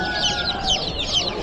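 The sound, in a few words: little chicks clucking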